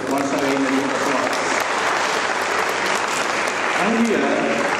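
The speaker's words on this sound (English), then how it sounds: "Once again, a round of applause." Sustained audience applause at an international economics seminar on the MSME sector, a dense, steady wash of clapping from a large crowd, with a voice briefly audible through it.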